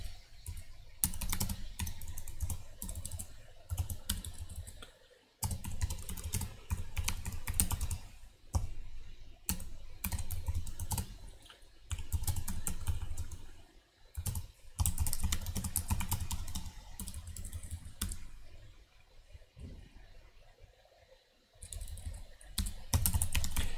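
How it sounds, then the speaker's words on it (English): Fast, close keystrokes on a computer keyboard while setting up virtual machines for a Docker Swarm tutorial, coming in dense bursts with a few brief pauses, steady and loud, no voices. "Okay, I will type this."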